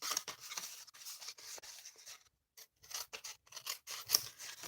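Scissors cut down through card in short, close snipping strokes, a series of crisp rasping cuts with a brief pause midway.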